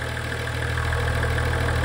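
A diesel Ecodiesel engine with a newly replaced high-pressure injection pump idles steadily, a loud, close, even rumble with a constant low drone and no talking.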